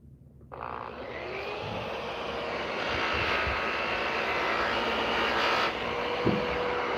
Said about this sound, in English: this is going to be a yellow airway buffing wheel and a brown triple E rouge